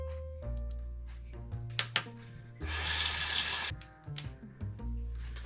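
A bathroom tap is turned on and runs into a sink for about a second during shaving with water only, splashing close by between clicks and soft handling noises, with a low hum throughout.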